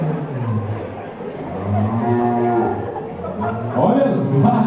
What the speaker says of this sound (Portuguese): Olha as vacas mugindo.